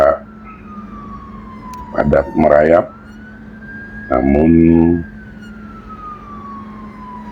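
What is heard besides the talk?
ambulance siren in city toll road traffic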